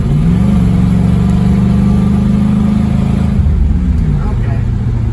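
A 1968 Pontiac Tempest engine with an untuned carburetor drones loudly from inside the car as it accelerates hard, a steady low hum rising then dropping near the end, with people talking over it.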